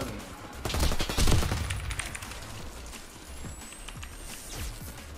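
Rapid gunfire from a weapon in a competitive shooter game with bomb-planting rounds, dense bursts of shots early on that thin out into scattered pops and game sounds.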